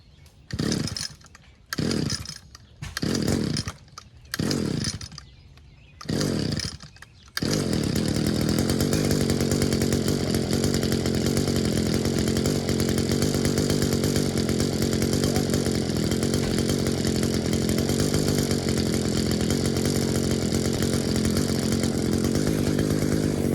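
Echo SRM 2300 two-stroke weed eater, found in the trash and unrun for years, gives several rhythmic pull-start bursts, then fires and runs at a steady buzzing idle, loud and close.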